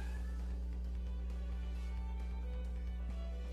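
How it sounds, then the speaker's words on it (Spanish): Cats yowling and meowing, a continuous wavering cry over a steady low hum, with no talk, heard while someone opens card packs in the Yu-Gi-Oh! Master Duel game. "¿Por qué están gritando esos gatos?"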